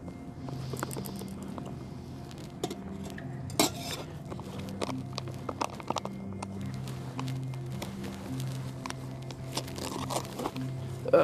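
Eggs mixed with bacon bits are shaken and stirred in a dish, giving a steady run of small clinks and scraping taps against cookware, fairly close and moderately loud, with no talk.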